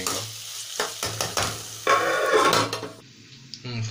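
Beetroot poriyal being stirred in a pan, with scraping spoon strokes and a soft sizzle of the vegetables frying, close by and without speech.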